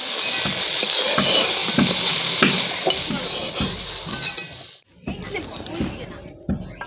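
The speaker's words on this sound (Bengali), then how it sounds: "আলুগুলো আমরা এবার লাল লাল করে ভেজে নেব।" Potato pieces frying in hot oil in a pan while cauliflower and rohu fish curry is being prepared, a steady close sizzle broken by regular spatula taps and scrapes, with a brief drop in the hiss near the end.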